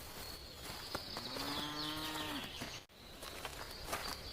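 Cattle led out to a field: a single long, drawn-out moo rises and holds close by, over a background of light rustling and clatter, with no voices.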